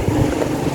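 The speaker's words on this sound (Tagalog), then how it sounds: "Ngayon po ay ang lakas po ng hangin." Strong wind blowing outdoors by a small shop during a town fiesta: a loud, steady rumbling roar with buffeting against the microphone and no voices.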